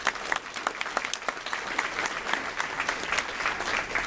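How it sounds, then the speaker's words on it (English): An audience at a club luncheon claps for a guest speaker, dense steady applause filling the room throughout with a few louder individual claps, no talking. "Let's give him a round of applause real quick."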